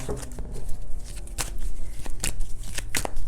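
Tarot cards shuffled by hand in a series of crisp riffling bursts with soft papery slides in between, close and fairly loud with no talk.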